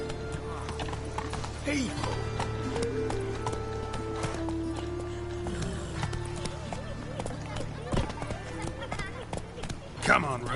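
Roach, the horse in The Witcher 3, gallops with a rapid rhythmic clip-clop of hooves and an occasional whinny, under game music and a player's talk and shouts.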